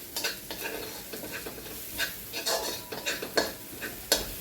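Chopped capsicum being sautéed in a pan for dry chicken lollipop masala, a soft sizzle broken by repeated scraping strokes of a spatula against the pan, close and fairly quiet.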